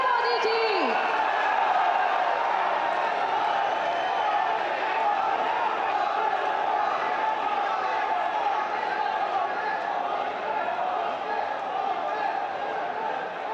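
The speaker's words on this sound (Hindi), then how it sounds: "जोरदार करताली एवं हुड़हुड़ी दे स्वागत करिबा माननीय प्रधानमंत्री श्री नरेंद्र मोदी जी।" Large crowd at a public rally in Odisha welcoming Prime Minister Narendra Modi with sustained applause and cheering, a dense continuous roar of clapping that begins abruptly and holds steady at high level.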